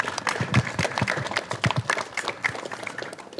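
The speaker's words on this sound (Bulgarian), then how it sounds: "Аплодисменти за него." An audience applauds for the mayor of Plovdiv at an outdoor ribbon-cutting for new tennis courts, a moderate, uneven patter of clapping hands that continues for several seconds.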